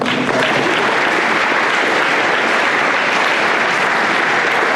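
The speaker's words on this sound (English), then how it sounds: "You can clap if you want." Loud, sustained applause from a large audience at a sports banquet, dense steady clapping filling the whole stretch without a break.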